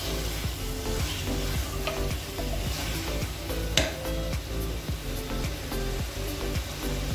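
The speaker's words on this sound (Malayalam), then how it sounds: "എല്ലാം നന്നായിട്ട് മിക്സ് ചെയ്ത് വന്നതിന് ശേഷം നമ്മുടെ 250 ഗ്രാം മട്ടനും മിക്സ് ചെയ്യാം" Mutton sizzles steadily in a pan while being stirred, a constant frying hiss with regular scraping strokes and one sharper clack partway through; no talking.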